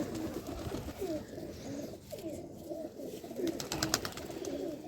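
Lal Pari pigeons cooing, with repeated low, rolling coos from several birds close by and no talking.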